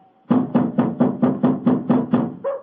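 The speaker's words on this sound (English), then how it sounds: "Knock again, old fellow, will you?" Nine heavy, evenly spaced knocks on a door sound in a steady rhythm as a sound effect in an old-time Sherlock Holmes radio drama, loud and close, with a brief voiced tone at the start and end.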